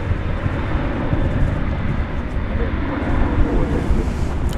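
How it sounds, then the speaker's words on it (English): An Airbus A321 airliner arriving at DFW Airport from Kansas City, a steady, moderately loud jet rumble heard from a distance with a slight swell and fade. "an Airbus A321 from Kansas City"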